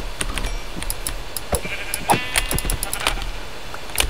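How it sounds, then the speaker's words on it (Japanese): Sheep bleat in the Minecraft video game, several short, clear bleats over a quiet game soundscape with faint clicks between them. "あ、待って、羊あった、羊。"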